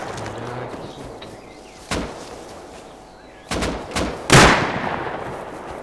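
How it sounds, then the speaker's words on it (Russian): Gunfire in the video game Rust: a few sharp distant shots and one louder close burst ring out over a noisy outdoor background, with no talk over them. "Сверху стреляют, походу."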